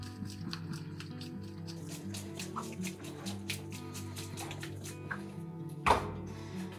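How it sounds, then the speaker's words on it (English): Raw beef is rinsed under cold tap water in a colander in a kitchen sink, giving soft steady dripping and splashing with a short louder splash near the end. "I just rinse it with cold water just to get the packaging off of it"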